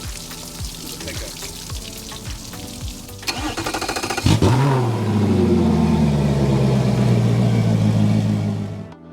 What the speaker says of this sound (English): go ahead and start the motor, and then we're gonna let it run for a few minutes